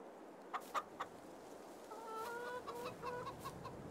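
Chickens cluck in a homestead coop with 49 hens and 2 roosters in Farming Simulator 22, a few sharp clucks early, then a run of repeated, fairly close calls over a soft farm ambience.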